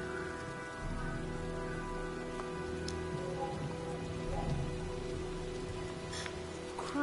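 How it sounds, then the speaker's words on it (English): Steady rain storm in the game Heavy Rain, a dense continuous patter of drops on surfaces with a faint low rumble beneath, unbroken for the whole stretch. "Well, looks like a storm's coming."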